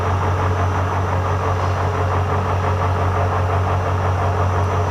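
A Cincinnati 205 milling machine runs steadily while taking a light cut, giving a loud, constant low motor hum with a mechanical drone and no voices.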